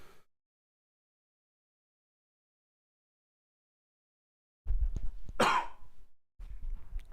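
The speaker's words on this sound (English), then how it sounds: "That was the worst time to have a cough then." A single harsh cough, close and fairly loud, breaking a long stretch of silence amid faint handling noise.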